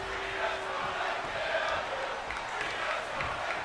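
A virtual arena crowd in Indianapolis roars and cheers continuously in WWE 2K23, a dense, steady wall of crowd noise with a few distinct shouts rising out of it.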